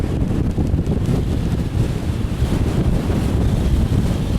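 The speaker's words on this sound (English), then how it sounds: "Whoa, wow, that's windy." Strong wind in the Vallebrón area of rural Fuerteventura roars and buffets the microphone continuously, a loud, rumbling gusty noise with no voices over it.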